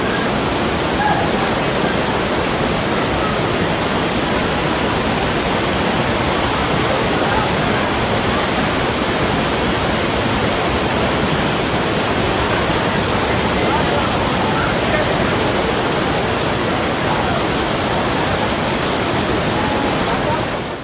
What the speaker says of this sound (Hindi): सज्जी कोट और अम्ब्रेला वाटरफॉल अपनी जगह खूबसूरत है, इनसे बहता ठंडा पानी आपको ज़िंदगी की ताजगी का एहसास दिलाता है